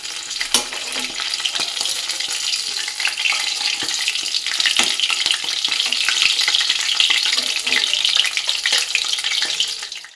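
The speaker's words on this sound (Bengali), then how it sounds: "এবার এক এক করে সবগুলো কোপ্তা ভেজে নেবো" Cabbage koftas fry in hot oil with a steady, dense sizzle and bubbling that holds for the whole stretch, occasionally stirred, with no voices.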